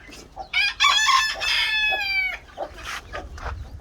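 A bantam Cochin rooster crows loudly and close by in a coop, with chickens clucking around it and more clucks trailing off afterward.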